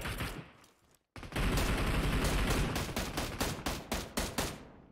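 Automatic rifle fire rattles through a PUBG Mobile match, starting with a brief burst, dropping to a short silence, then sustained loud rapid shots that thin into separate sharp cracks toward the end.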